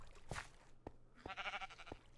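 Sheep bleating in the Minecraft video game, a single wavering bleat in the middle of the clip, moderately close, surrounded by a few soft clicks and footsteps in quiet surroundings.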